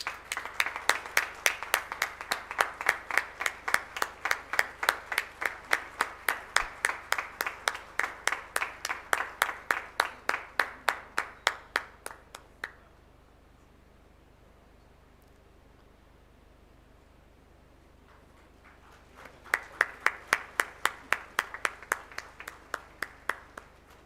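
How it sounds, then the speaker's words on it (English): Crowd clapping at a first-year B.E./B.Tech. inauguration and induction ceremony: a sustained round of brisk applause fades out into near-silence for several seconds, then a fresh burst of clapping starts up again. "Give a big round of applause."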